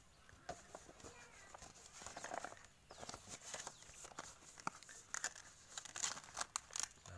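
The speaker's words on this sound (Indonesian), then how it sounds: "kita bungkus menggunakan daun pisang" Fruit being wrapped by hand in banana leaf, giving close, irregular crinkling and rustling with soft taps in uneven bursts throughout.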